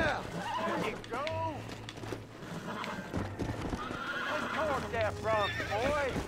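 A horse in a video game whinnies repeatedly with rising, wavering neighs over steady hoof clip-clops, while someone talks loudly throughout.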